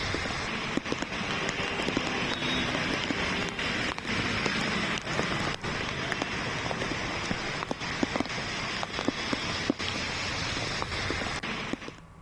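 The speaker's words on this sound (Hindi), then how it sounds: "जहां पर देखिए थोड़ी ही बारिश में किस तरीके से सड़कों पर लबालब पानी भर गया है।" Heavy rain pours steadily onto flooded streets in Mumbai, a dense continuous hiss with scattered close drips and splashes and no voices.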